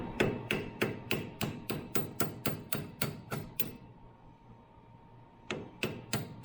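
Sharp metallic hammer taps knocking parts out of a skid steer during repair, about a dozen quick, evenly spaced blows, then a short pause and a few more strikes, close and crisp with no talking.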